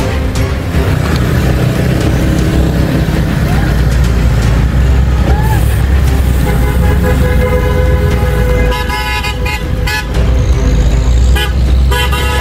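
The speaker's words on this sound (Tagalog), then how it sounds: "sino itong busina kay Michael?" Loud, busy street traffic in heavy congestion, with engines rumbling close by and car horns tooting repeatedly through the noise, with voices mixed in.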